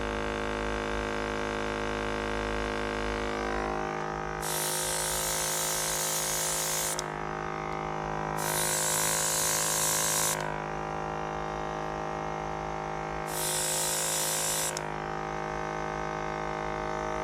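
An airbrush sprays iridescent green paint onto a fishing lure in three hissing bursts of a few seconds each, close by over a steady compressor hum.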